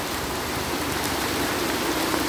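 Heavy rain pours steadily on a mountain hiking trail at Mt. Parawagan in Rodriguez, Rizal, a dense, even hiss with no breaks or voices.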